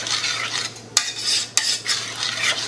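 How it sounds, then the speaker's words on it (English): A spoon stirs crème fraîche through a tuna casserole mix of tinned tuna and broccoli, giving wet, squelching scrapes with two sharp clinks against the bowl, close and without talk. "You just want to mix it through like that."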